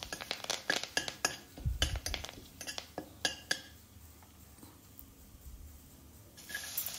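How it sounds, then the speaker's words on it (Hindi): A spoon scrapes and clinks against a pot while stirring bay leaves and lime leaves in melted butter, a run of sharp metallic taps that thins into quiet, then picks up again at the end. "इसे थोड़ा चम्मच से चला लेते हैं।"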